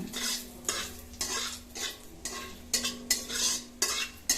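Torn bay leaves fry in oil for a rohu fish and potato curry, a close sizzle that swells in rhythmic bursts as a utensil stirs the pan again and again.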